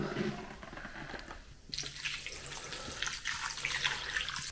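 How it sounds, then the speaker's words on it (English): Cold water is poured over homemade butter in a mixing bowl, starting as a brief low trickle and then becoming a steady, close splashing stream that runs to the end. "Pour the butter in a mixing bowl and pour cold water on top."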